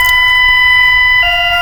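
Brief, loud EAS emergency alert alarm of steady multi-tone pitches that changes once partway through, with low rumble beneath.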